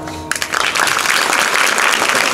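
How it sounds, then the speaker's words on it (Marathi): A kirtan audience breaks into loud, steady clapping after a brief quiet moment, the dense applause continuing without pause to the end. "एकदा टाळी वाजवा ना, अशी टाळ वाजवू दे."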